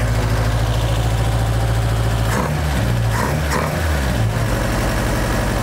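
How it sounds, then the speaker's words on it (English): A 1977 Toyota Hilux six-wheeled mini truck engine idles with a continuous low, throbbing rumble, briefly interrupted by a few rougher bursts midway. "it's amazing how you'll go from not cranking at all to idling"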